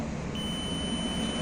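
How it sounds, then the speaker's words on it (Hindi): A multimeter in continuity mode emits a steady, unbroken electronic beep that holds at an even level throughout, clear and close with no voices. "यहाँ पे तुरंत बीप का साउंड आएगा"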